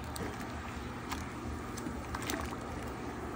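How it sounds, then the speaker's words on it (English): A paddle stirs a swamp bucket stew of lemons and broth in a large pot, giving a steady sloshing, churning wash of liquid that stays close and fairly even throughout, with no talk. "we're gonna get our little paddle. Just get it mixed in there real good"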